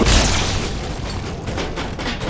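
A grenade in Halo 2 goes off in a single loud, close boom that rolls on as a dense rumbling blast for a couple of seconds.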